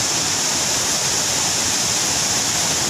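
Lakham Waterfalls in Munnar, Kerala, rush as a steady, dense broadband roar of falling water, constant and close with no breaks and no voices.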